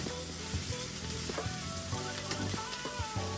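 Vegetables including green capsicum tossed in hot oil for Veg Manchurian, giving a loud, dense, steady sizzle with scattered clinks and stirring knocks, close up and unbroken throughout.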